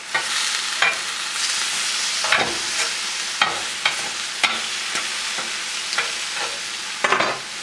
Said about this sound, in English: I'm just going to move these around a little bit in the pan.